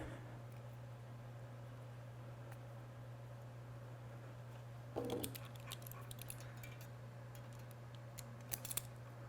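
Scissors snip through wires while wiring a robot swerve drive: a faint, quiet cut around five seconds in and a few small clicks near the end, over a steady low electrical hum.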